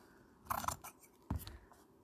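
Scissors snip roughly around paper cutouts for a collage, two brief close crisp cuts separated by a short pause in a quiet room.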